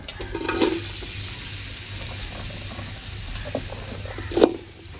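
Curry leaves and onion hit hot oil with mustard seeds and fenugreek, giving a continuous moderate sizzle with two louder crackling bursts near the start and end, close by.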